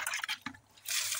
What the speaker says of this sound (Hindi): तो इस तरह से अब हम इसमें पानी डाल देंगे।